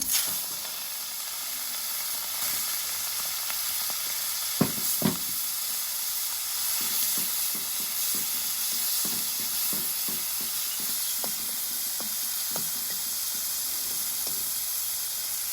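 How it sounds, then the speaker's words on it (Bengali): Shellfish fry in oil in a wok, giving a steady broad sizzling hiss throughout, broken by scattered soft clicks and scrapes of stirring. "তো ভাজি চলছে ঝিনুকের,"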